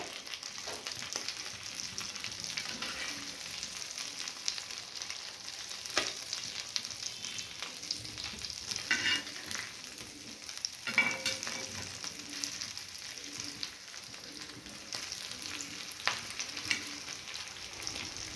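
Stuffed green chillies frying in a pan after being flipped, giving a soft, continuous close-up crackle and hiss that holds steady throughout, with a few faint scrapes.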